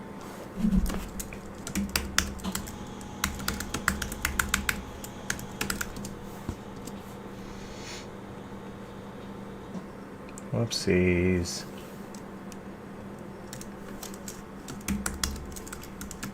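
Rapid, uneven keyboard typing clatters in bursts close by, with a short spoken interjection partway through and pauses between flurries of keystrokes.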